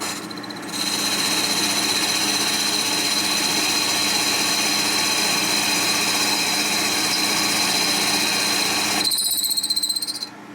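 A Harley panhead race motor part being machine-cut at roughly 840 RPM, a loud, steady, high-pitched cutting squeal that holds for about eight seconds and then stops abruptly.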